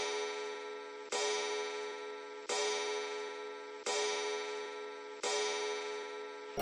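Steady clock ticking sounds in a children's nursery rhyme about a clock, with a bright repeating tone that restarts in even blocks every second and a bit, at moderate volume with no voices.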